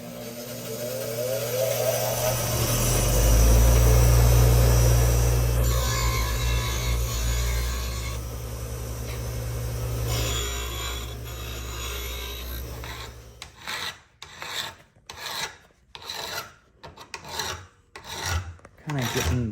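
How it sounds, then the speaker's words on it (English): A rough hand file rasps steadily and loudly against metal on a Porsche 911 part, close and continuous for a long stretch, then breaking into a quick series of separate back-and-forth strokes. "Kind of getting the lumpy parts off of it too. This is my rough file."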